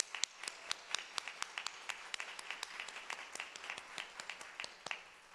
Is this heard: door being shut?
no